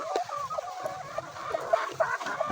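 Several native hens, around 40 laying hens, clucking and calling in overlapping bursts, moderately close, with steady low-level barnyard background and no talking.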